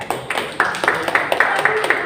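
Students in an art class clap their hands together in a short burst of about eight evenly spaced claps, fairly close and moderately loud.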